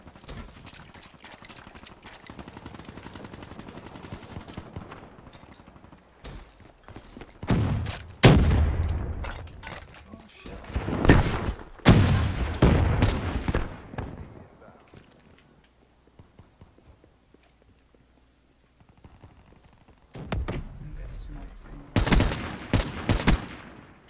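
Sniper rifle shots in a shooter game crack out in loud clustered bursts separated by quieter stretches, with a voice heard between the volleys.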